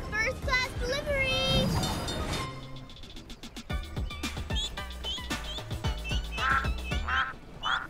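Cartoon ducks quack in quick repeated bursts around baby ducks following a rubber ducky, mixed with animated character voices and a bright musical backing.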